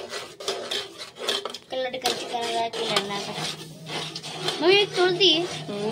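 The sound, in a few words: frying garlic and chilli masala paste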